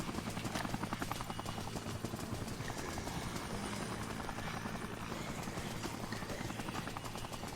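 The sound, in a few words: helicopter in the video game Dead Rising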